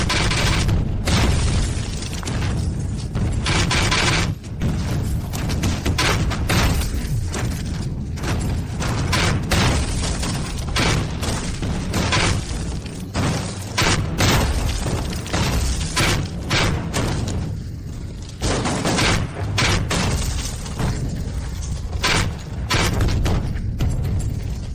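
A loud, nearly continuous barrage of heavy booms and blasts, like repeated artillery cannon fire with rumbling impacts overlapping one another.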